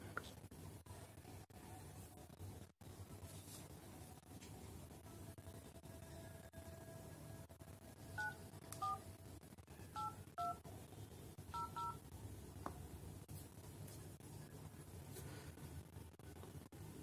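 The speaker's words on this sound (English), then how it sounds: "Now I will be calling from another phone." Touch-tone keypad beeps from a phone dialing out to an old phone rigged as a remote switch, several short paired tones in quick clusters midway through, heard over a steady low background hum.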